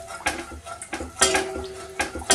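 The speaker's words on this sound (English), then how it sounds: "Mix it well, try not to break the cornflakes up" Cornflakes being stirred into melted topping in a bowl for an old-school cornflake tart, with repeated crunchy scraping strokes and spoon clinks against the bowl in an irregular rhythm, close and fairly loud.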